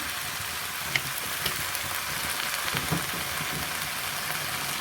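Chinese kale and canned fish stir-fried hard in a hot pan, giving a steady close sizzle and crackle with a few soft spatula scrapes and clinks throughout.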